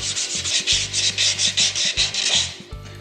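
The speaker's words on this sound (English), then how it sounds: "Back to more sanding." Hand sanding a refinished wood bowl, with rhythmic back-and-forth rubbing strokes, about a dozen quick passes, close and fairly loud, ending with a brief pause and a couple of lighter strokes.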